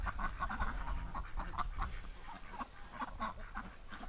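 Ducks quack repeatedly in a yard, a fairly faint, busy chorus of overlapping nasal calls across the whole stretch with no talking.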